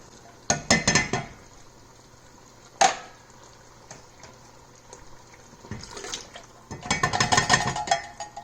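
Canned mixed vegetables tipped into a big pot, with wet clattering splashes in separate bursts, a single knock against the metal between them, and then a longer sloshing pour near the end.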